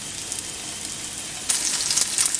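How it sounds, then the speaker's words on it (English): Thin chicken medallions sauté in a little olive oil in a pan for chicken Marsala, giving a steady close sizzle that grows louder and crackles more sharply partway through, with no talking. "you're just sauteing them in a little olive oil, and you want to brown them on each side"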